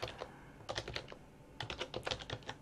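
Typing on a computer keyboard while entering commands during an Arch Linux installation: quick bursts of close, crisp key clicks with brief pauses between them.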